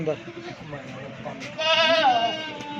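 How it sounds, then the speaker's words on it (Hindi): Rajanpuri goats at a sale, a single goat bleat wavering near the end amid someone talking over it. "ये 7 माह का मक्खी चीना बकरा है।"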